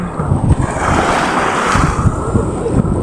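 Loud, steady rush of surging ocean waves mixed with heavy wind buffeting the microphone, a constant roar with no clear breaks.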